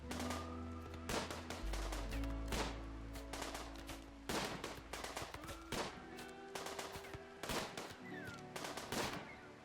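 Rapid bursts of gunfire from the colony-building video game Rimworld crackle in repeated volleys, loud and close, with short gaps between clusters of shots.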